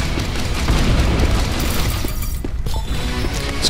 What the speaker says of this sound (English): Let's switch grenades and blow it up.